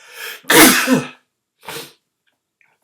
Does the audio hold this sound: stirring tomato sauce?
no